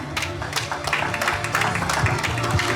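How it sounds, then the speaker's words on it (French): Audience applause at a women's convention event in 2026, steady dense clapping filling the whole stretch, mid-distance and moderately loud, with some background voices mixed in. "Applaudissez, merci."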